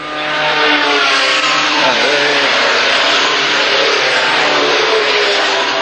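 A Formula Vee race car sweeps through a corner at Amaroo, its engine a loud sustained buzzing drone heard close and steady throughout, with a commentator's voice running over it.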